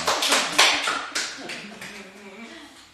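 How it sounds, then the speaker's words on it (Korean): Applause from a church congregation during a Sunday worship service, a burst of many hands clapping that peaks early and then slowly fades over a few seconds. "큰 박수 한번 주세요"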